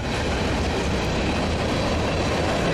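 A long freight or passenger train rolls steadily past on rails, a loud, continuous broadband roar with faint clickety-clack from the wheels and no break across the stretch.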